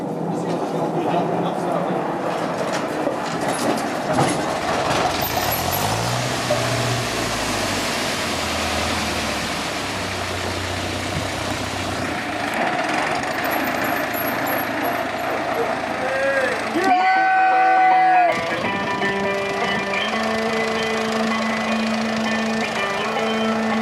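A tractor engine runs steadily in the background, with a brief harsher burst near the end, as people talk throughout.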